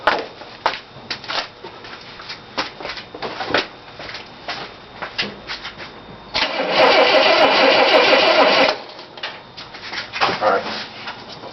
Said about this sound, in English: So we got it cranking again.